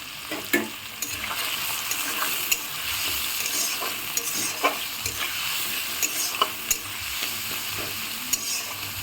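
Chopped garlic frying in a pan for tadka, a close, steady sizzle with repeated clicks and scrapes from a spoon stirring against the pan, no talking.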